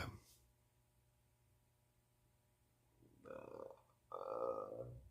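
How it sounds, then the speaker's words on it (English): Two short low gurgling burps in quick succession near the end, after a stretch of near silence. "I've got so many, like, baby burps going on."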